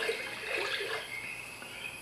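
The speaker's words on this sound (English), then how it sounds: "You touch the water to make splashes and scare away the fish." Water splashing in the Koi Pond HD iPad app's virtual pond, a steady bright wash of liquid sound with soft ripples, fairly loud and continuous for two seconds with no talk.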